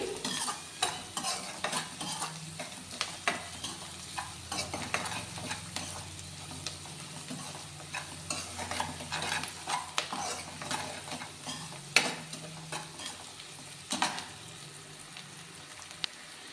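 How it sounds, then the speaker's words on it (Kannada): Chopped greens and salt fry in a pan, a soft continuous sizzle broken by repeated spoon scrapes and clinks of stirring, fairly quiet and close, with no speech. "ಆಮೇಲೆ ಟೇಸ್ಟಿಗೆ ತಕ್ಕಷ್ಟು ಉಪ್ಪು ಹಾಕ್ಕೊಳ್ಳೋಣ ಇದನ್ನು ಸ್ವಲ್ಪ ಫ್ರೈ ಆಗಲಿ"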